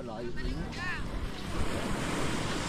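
Calm sea waves wash steadily against the shore under strong wind buffeting the microphone. The surf forms a continuous rushing backdrop, with a few faint whistling tones near the start.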